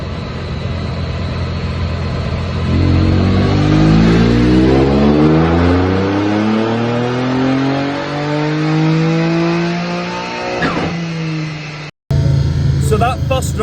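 A turbocharged Ford Fiesta running water-methanol injection revs hard and loud through a long rising pull, harmonics sweeping upward until the engine cuts off sharply near the end, then it idles back briefly.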